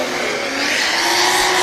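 Pro-Am drift car at a British Drift Championship round at Three Sisters accelerating hard on full throttle, a loud sustained engine roar with a steady high whine throughout.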